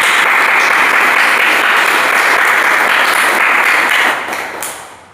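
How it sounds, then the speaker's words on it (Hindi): A group bursts into loud, sustained clapping during an exercise or fitness session, a thick continuous patter that holds steady before fading off near the end. "सबके लिए तालियां।"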